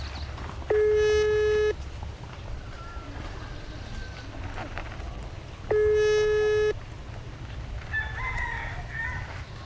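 A phone call in Thailand fails to connect, giving two long, flat electronic tones about five seconds apart over quiet background noise, with faint outdoor sounds between them.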